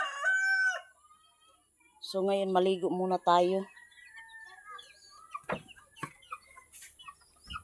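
A rooster crows loudly and close, then chickens cluck and call in a rapid, rising series, with someone speaking briefly between the calls and scattered knocks and chirps afterward.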